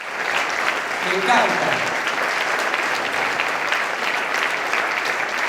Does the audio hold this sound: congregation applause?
yes